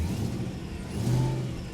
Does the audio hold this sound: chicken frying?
no